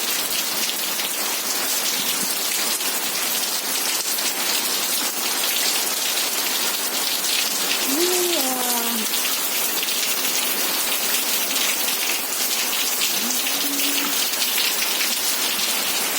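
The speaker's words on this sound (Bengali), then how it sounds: "অনেক জোর বৃষ্টি হচ্ছে, অনেক জোর।" Heavy rain pours down steadily, a dense continuous hiss throughout, with a couple of faint distant bird calls in the background.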